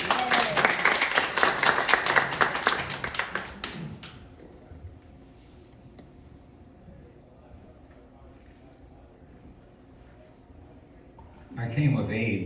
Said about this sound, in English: So please give a nice round of applause for Don Williams.